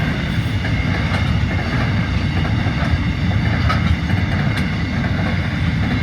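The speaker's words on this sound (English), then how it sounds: "all of a sudden, behind us was another train" Continuous rumble and rattle of a long freight train rolling past nearby, with faint clickety-clack of wheels over the rails, steady throughout.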